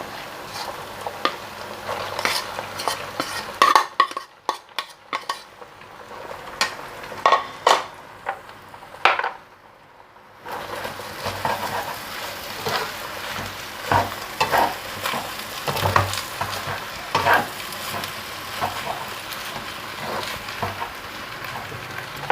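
Rice stir-fried in a pan for American-style fried rice, with a sizzling bed and repeated clattering spatula scrapes against the pan, one quiet gap partway, then steady stirring again up close, no talking.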